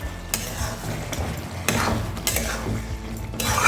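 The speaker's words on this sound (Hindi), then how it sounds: "अच्छे से सब्जी को मिक्स करेंगे।" Aloo matar curry stirred in a pan, a spoon scraping and clinking against the metal with a soft bubbling simmer beneath, steady and close for a few seconds.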